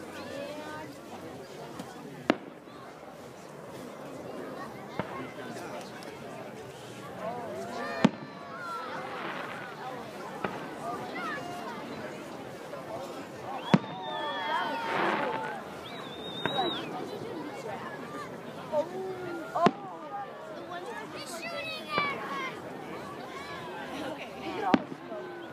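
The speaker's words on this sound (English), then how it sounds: "Let's stay here and watch the fireworks." Fireworks at the Tamarack night parade, heard from a distance as scattered sharp pops and booms across a busy crowd, with people talking throughout.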